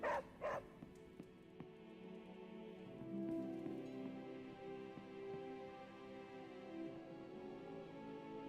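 A dog in the video game Marvel Midnight Suns gives a couple of short, close barks at the very start. A steady, soft rain-like hiss continues behind them.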